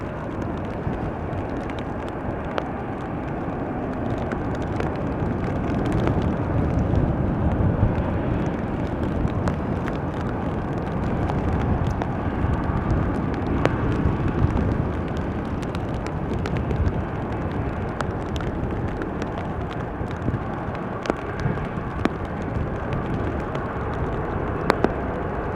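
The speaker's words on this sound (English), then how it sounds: "next up is going to be this Boeing 737-900 going to Berlin" A Boeing 737-900 airliner takes off at Amsterdam Schiphol Airport in showery weather, a broad, steady jet roar with wind buffeting and no speech.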